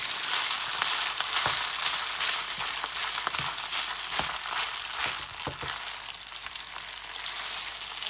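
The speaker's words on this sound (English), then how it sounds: "And now we're just going to pour all the rice in" Leftover rice fries in a pan with a loud, continuous sizzle, broken by scattered sharp crackles and soft scraping thuds as it is stirred, with no talking.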